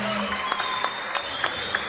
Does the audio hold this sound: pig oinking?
no